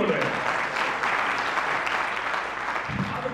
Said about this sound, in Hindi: जोर लग ताली बजाई, सही बोल रहे हैं।